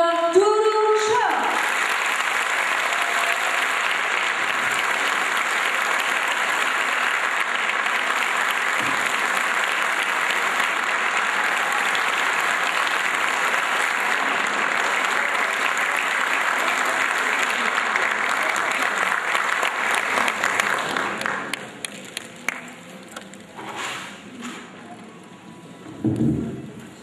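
An audience at a Turkish folk music concert applauds a singer's arrival with sustained, loud clapping for about twenty seconds before it thins into scattered claps and crowd noise.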